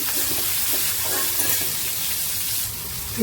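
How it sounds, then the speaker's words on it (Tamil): Onions sauté in an oiled pan for an ivy gourd stir-fry, a steady hissing sizzle with faint stirring scrapes, fairly close and without talk. "கொஞ்சம் வெங்காயம் வதங்கட்டும்"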